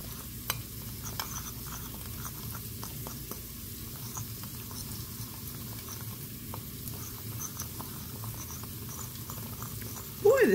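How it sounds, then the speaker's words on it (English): Dry ground spices stirred with a measuring spoon for keto chicken tikka masala, producing soft scraping and light ticking taps close up, fairly quiet and irregular. "I'm just going to take my measuring spoon and stir up these spices, blend it all together"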